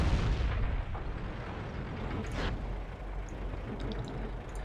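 Tank cannon in the World of Tanks game, a Tiger I (H), fires one heavy boom at the start, followed by a rumbling decay and softer distant impacts and clinks.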